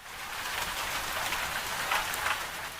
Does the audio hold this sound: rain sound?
yes